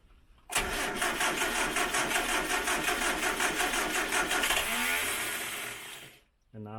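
Starter motor on a 1968 Morris Minor 1000 cranking the engine in a steady rhythmic churn for about five seconds, close and loud, winding down without the engine catching.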